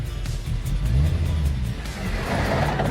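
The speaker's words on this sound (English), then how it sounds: "The engine is just incredible." A Group B rally car's engine drones and revs steadily at close range, with its low harmonics climbing and falling as the throttle is worked.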